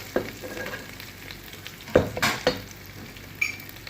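A spoon stirs sopas in a cooking pot, giving a few scattered scraping knocks against the metal over a soft simmering sizzle.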